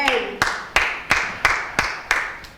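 A church congregation claps in praise of the Lord, about eight sharp, evenly spaced claps in a brisk, steady rhythm, loud and close with a short ring after each.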